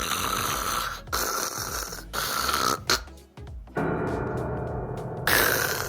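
A person imitates open-mouth snoring, making several loud, rough inhaled snores in an uneven rhythm, close to the mic with short pauses between.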